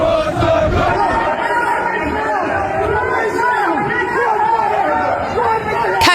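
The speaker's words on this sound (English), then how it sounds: "A crowd that had been restless for hours suddenly turned explosive." Restless crowd shouting outside Downing Street, a loud, dense mass of raised voices and chants rolling continuously, with individual shouts poking through the din.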